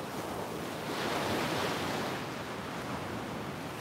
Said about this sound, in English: let's soak in the sounds of these waves and the beautiful scenery